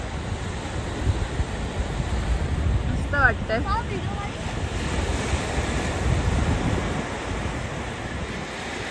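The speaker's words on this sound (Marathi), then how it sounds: "समुद्राच्या लाटा रात्रीच्या आणि आवाज" Sea waves rolling onto a beach at night, a steady broad wash of surf with wind rumble, heard from close by, while a person briefly speaks partway through.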